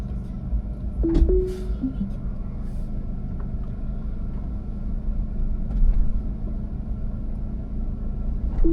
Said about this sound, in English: Supposedly it will back out of the garage now.